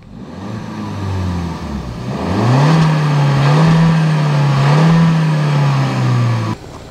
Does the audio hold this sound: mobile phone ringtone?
no